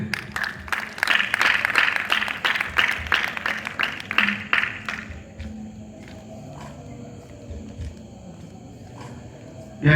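Church congregation applauding and cheering in acclamation of Jesus, a burst of loud rhythmic clapping and shouts that fades after several seconds into quieter room murmur, with a sharp sound at the end.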